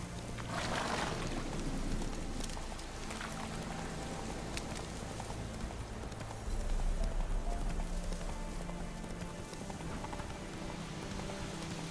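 Roach, a horse in The Witcher 3, trotting with steady hoof clip-clops over a dense, continuous outdoor ambience, the hoofbeats moderately close and partly buried in the surrounding background.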